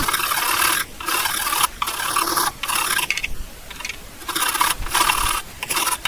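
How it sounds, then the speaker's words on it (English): A wood rasp files the grip of a Wagtail squeegee handle in steady back-and-forth strokes, loud and close, with the harsh scraping broken by short pauses between passes. "using a wood rasp here, so I'll speed it up"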